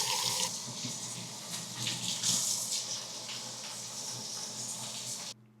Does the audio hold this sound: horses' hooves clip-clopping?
no